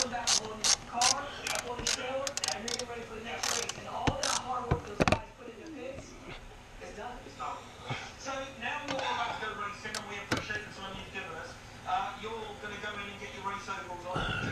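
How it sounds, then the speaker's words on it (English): A wrench ratchets on a 7mm bolt while removing the radiator from a Jaguar XK8, with rapid clicking bursts up close at the start and quieter clicks later. Someone talks over much of it. "It's a 7mm. Also helps if you have the wrench going in the right direction."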